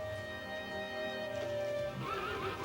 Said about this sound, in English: But you're a horse.